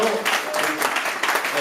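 Audience applause for fighters after a full-contact ring bout, a brief dense wash of clapping with some voices mixed in.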